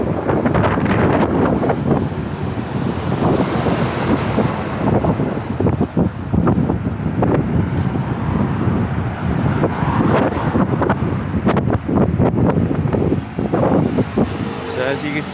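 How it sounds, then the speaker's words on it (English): Wind buffets the microphone outdoors at SM Wind in Tagaytay, a constant rough roar with gusty swells throughout, and faint voices or traffic sit underneath. "So as you can see, the wind is actually blowing."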